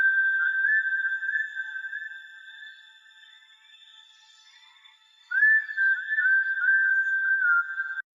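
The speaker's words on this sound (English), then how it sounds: "the last loop adds some melody and can be found under the Synth Miscellaneous folder and is called Lemongrass" The Lemongrass synth melody loop from the Satin Looks expansion, run through a low pass filter: a thin whistling lead line sustained and wavering, softening midway, then returning louder for the final few seconds.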